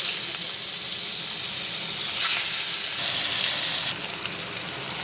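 Hilsa fish sizzles and hisses steadily in hot mustard oil, a constant close frying crackle that runs alone and without a break.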